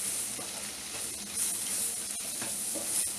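Ground masala is stirred into sizzling chicken gravy, a steady bright hiss of frying with soft scraping stir strokes throughout, moderately loud and close with no talking.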